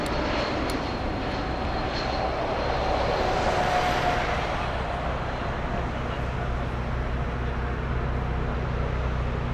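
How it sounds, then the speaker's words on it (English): Steady jet engine roar from a Swiss Air airliner, flight 334 from Geneva, arriving at Frankfurt airport. The drone is broad and continuous at a moderate distance and holds level throughout. "This is a Swiss Air Flight 334 inbound from Geneva."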